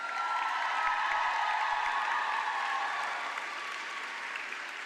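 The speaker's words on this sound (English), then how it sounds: "I invite the members of the graduating class to reciprocate by applauding your family, friends, faculty, staff, and everyone who have helped you along the way." A graduating class applauds at a university convocation ceremony in a large hall, a dense, sustained wash of clapping from many hands that fades slightly toward the end.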